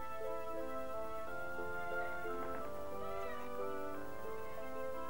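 A cat meows a few times, its tonal cries clear over a steady harmonic background of music, with no talking.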